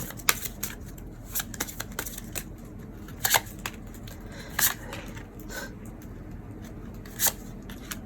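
Oracle cards being shuffled by hand in a quiet room during a tarot-style reading, giving soft scattered riffles and taps with a few sharper card slaps standing out.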